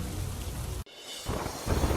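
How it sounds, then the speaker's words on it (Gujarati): Heavy downpour in Rajkot roars as a dense, steady hiss of rain, briefly cut off near the middle and then returning just as strong, with no voices. "રાજકોટમાં ધોધમાર વરસાદ।"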